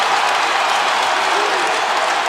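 Basketball arena crowd in Evansville roaring and cheering steadily after a drive to the rim, a dense, loud wall of noise with no break.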